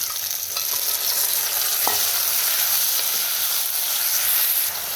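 Cooked jackfruit is stir-fried in a pan with ground coconut masala, giving a continuous loud sizzle and hiss, with soft scraping stirs underneath.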